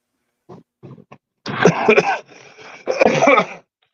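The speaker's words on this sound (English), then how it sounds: "I still have not shaken this dang cough." Someone with a lingering cough makes a few short throat sounds, then two harsh, rasping coughs close to the microphone, with no talking.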